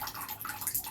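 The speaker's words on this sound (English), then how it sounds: "It's time to take a shower." Tap water sprays in a short burst during a green cheek conure's shower, a close, fluttering splashy hiss.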